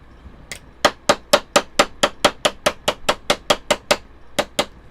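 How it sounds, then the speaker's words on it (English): A hammer taps the outside edge of a metal spoon to flatten it, sixteen or so sharp, evenly spaced metallic strikes in quick succession, close and loud, with a short pause before the last two. "I'm just barely tapping the outside edge to flatten it out"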